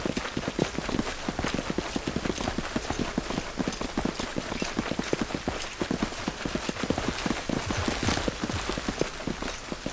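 Heavy footsteps thud in Pathfinder: Wrath of the Righteous, a fast, steady run of clumping impacts that carries on for the whole stretch, close and fairly loud, with no talk.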